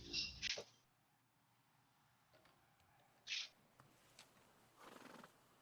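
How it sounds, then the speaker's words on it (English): Horse neighing in a family barn in Montana, with two sharp whinnies at the start, another whinny midway and a softer rustle of movement near the end, set against quiet room tone. "Lieutenant Vogel, you're currently attending your horse in your family's barn in Montana"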